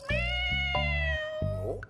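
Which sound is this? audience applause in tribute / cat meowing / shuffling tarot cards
cat meowing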